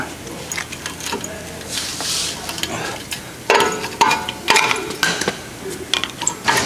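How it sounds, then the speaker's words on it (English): A worn inner brake pad being pried out of the front caliper of a 2012 Honda CR-V, heard as close metallic scrapes, clicks and clunks in short irregular bursts, growing louder toward the end, with no talk. "Looks like this inner pad is worn a little more. I'm going to pry that out."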